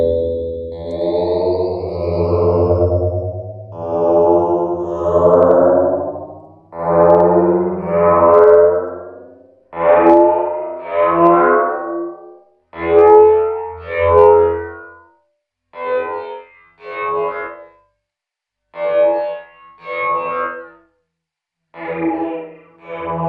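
A Max for Live effect called blur, combining a low-pass filter, multi-tap delay and tonal reverb with feedback, smears a processed, distorted vocal-like melodic line into echoing, chorused phrases that grow choppier and more fragmented, with no plain talking.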